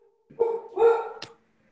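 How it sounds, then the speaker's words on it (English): A single dog barks close by during a Sewer Authority meeting call: two full barks in quick succession, then a short sharp yelp, with silence around them. "Tell Phil I don't speak dog."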